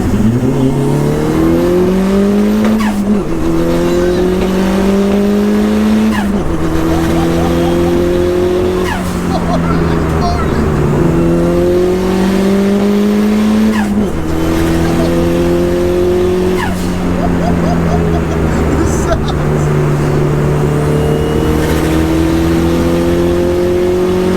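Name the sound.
turbocharged car engine revving on road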